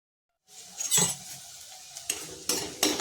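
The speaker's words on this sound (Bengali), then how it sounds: "এভাবে সমস্ত এঁচড়গুলোকে ভেজে নিতে হবে।" Young jackfruit pieces frying in a pan, a soft sizzle that starts after a brief silence and is broken by several scraping stirs and knocks against the pan.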